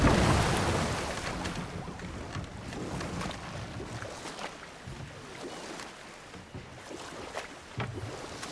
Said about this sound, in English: Waterfalls. We're close.